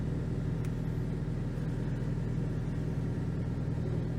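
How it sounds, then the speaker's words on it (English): An electric winch pulls a car with its handbrake released, giving a steady low motor drone and rumble that stays loud and even throughout, with no voices. "this is purely now just a winch"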